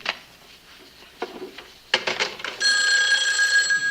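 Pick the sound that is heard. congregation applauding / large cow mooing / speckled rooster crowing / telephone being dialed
telephone being dialed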